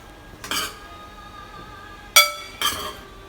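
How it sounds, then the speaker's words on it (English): Serving Trinidad and Tobago Spanish rice into a bowl brings a few clear clinks of a utensil against dishware, one soft knock, then two sharper ringing taps close together. "I just need to get it into the bowl for final presentation"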